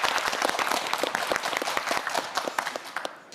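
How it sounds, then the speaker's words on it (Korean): A studio audience at a televised student science quiz show applauds loudly, a dense, energetic patter of many hands clapping for several seconds. "큰 박수 보내주세요."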